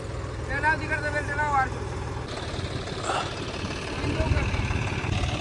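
John Deere and New Holland tractor engines rumble and idle steadily underneath while people talk over them, as the tractors pull a sugarcane-loaded Eicher truck stuck in a field.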